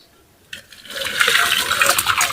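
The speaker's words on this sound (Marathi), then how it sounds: "मी गाळणी घेतलेली आहे आणि इकडे इकडे पातळीला घेतलेले आहे आता डाळ वेगळी आणि पाणी वेगळं करून घ्यायचं आहे" Water from cooked dal pours through a strainer into a vessel, starting after a short quiet moment and building into a steady, close gushing splash.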